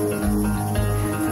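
Crickets chirp on Torcello island in the Venetian Lagoon, a short burst of steady, pulsing insect trills up close.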